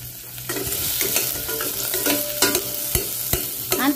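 Chopped onion and garlic sautéing in hot oil in a pan for sinampalukang manok, a loud, close sizzle broken by repeated spoon scrapes and stirring clatter.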